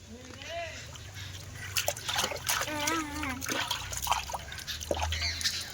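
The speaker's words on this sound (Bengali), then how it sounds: "বন্ধুরা এখন গরম জলে স্নান করছে" Water splashes and trickles as a child bathes in hot water at home, with scattered splashes and drips close by while children's voices chatter and squeal over them throughout.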